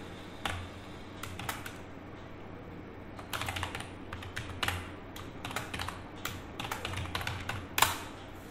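Computer keyboard typing while renaming a folder, quiet irregular bursts of clicky keystrokes close by, with short pauses between runs of keys.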